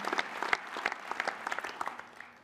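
A modest audience applauds a municipal councillor, the individual claps distinct and fairly sparse, fading off toward the end.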